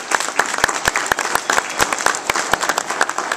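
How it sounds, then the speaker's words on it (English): An audience applauds presenters at a meal replacement cookie launch event in Alabama, a dense, lively burst of many hands clapping close by with sharp individual claps standing out. "give them applause for giving that presentation"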